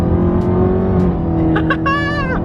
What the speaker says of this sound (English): Give me a little downshift.